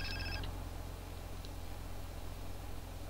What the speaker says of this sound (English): a phone call.